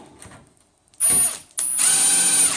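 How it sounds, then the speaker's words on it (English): A Milwaukee impact driver drives screws into a frame's Z-axis rods and bars in two bursts, a short whine followed by a pause and a longer high-pitched rattling run, loud and close. "It's not hammer, it's just impact drive."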